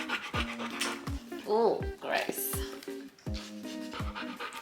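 A dog tired out from exercise pants in quick rhythmic breaths close by, with someone talking and some scratching noises in between.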